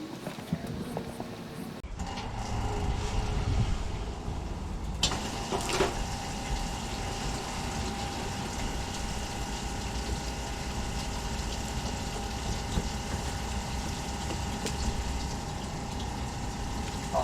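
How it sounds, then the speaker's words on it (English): A small caravan water pump feeding an off-grid outdoor shower hums steadily and continuously at close range, with a couple of brief clicks near the start and no voices. "I'll go fix the water pump on."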